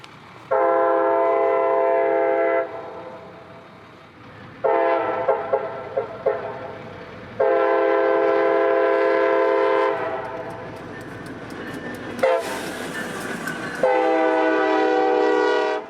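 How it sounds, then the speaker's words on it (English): CSX work train W003, a track geometry train, passes close with repeated long blasts of its horn, sustained chord-like tones separated by short gaps, over rumbling wheels and a burst of high rail noise. "This is W003, a track geometry train similar to that W001 we chased on the Brooksville sub earlier this year"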